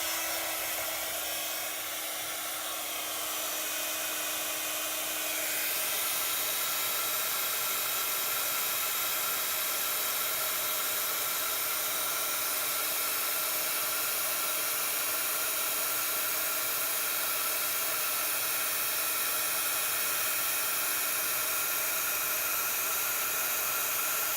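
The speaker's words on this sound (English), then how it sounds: "Right, so here's the heat gun." A heat gun used for embossing a stamped card runs nonstop, giving a loud, steady, airy whir and hiss that holds unchanged for about twenty-four seconds.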